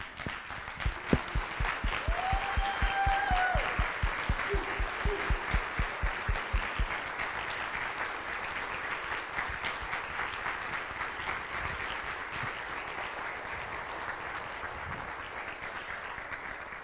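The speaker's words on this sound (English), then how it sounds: "I feel like the people in the big awards where you just can't say anything because everybody's still clapping." A church congregation stands and claps in appreciation of their pastor at a Sunday morning service, beginning with distinct rhythmic claps that swell into long, dense applause, with a few faint voices calling out early on.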